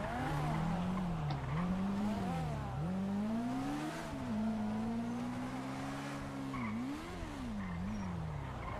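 A motorbike ridden in GTA squeals and skids steadily, its tires whining in wavering pitch for several seconds as it slides toward a wall, loud and continuous without talk.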